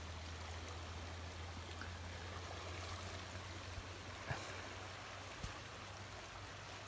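A stream swollen with rain in May rushes along near a riverbank in light drizzle, a steady, faint broadband wash of flowing water with a few small splashes and no voices.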